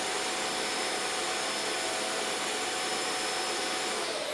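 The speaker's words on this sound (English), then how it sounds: "There's a vacuum going on downstairs." A vacuum cleaner drones steadily from another floor of a building, a continuous broadband roar that holds even for the whole stretch with no talking.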